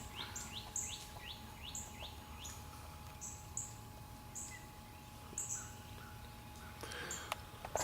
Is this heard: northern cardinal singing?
yes